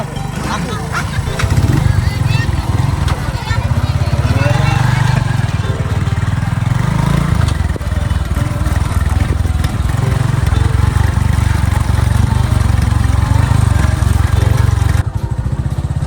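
A motorcycle engine runs steadily and loudly nearby at a farm, a constant low drone throughout, with people talking over it.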